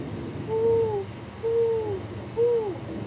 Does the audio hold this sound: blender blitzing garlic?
no